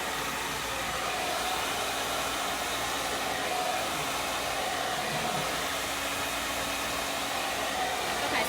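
Blow dryer drying natural hair at a hair expo, a steady loud whooshing fan roar held at an even level throughout, close by, with no talk.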